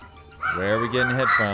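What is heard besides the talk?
alarm clock sounding like a rooster crowing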